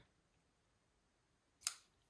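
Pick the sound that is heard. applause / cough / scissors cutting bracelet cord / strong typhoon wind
scissors cutting bracelet cord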